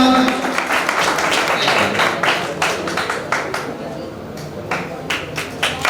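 Audience members at a Teachers' Day honour ceremony clap in a steady, dense stream of applause, with a few sharper claps standing out near the listener.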